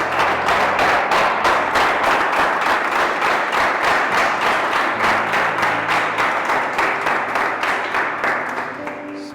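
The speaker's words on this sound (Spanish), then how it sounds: "Eleva una ofrenda de aplausos al Rey" A church congregation claps steadily in rhythm as an offering of applause during a worship service, loud and continuous with fast even beats that fade slightly near the end.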